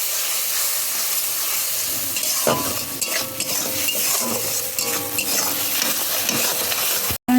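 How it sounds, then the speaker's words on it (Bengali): Spice paste for mustard hilsa, loosened with a splash of water, fries in a pan under steady stirring: a continuous close sizzle and hiss with scraping and light utensil clinks, ending abruptly. "মশলাটা ভালো করে কষিয়ে নেব"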